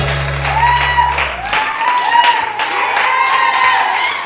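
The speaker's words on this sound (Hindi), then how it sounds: "तो टाइगर बिस्किट्स के लिए वंस अगेन एक बार फिर तालियां" Studio audience on a morning TV show claps in a sustained burst, with music and a voice running over the applause.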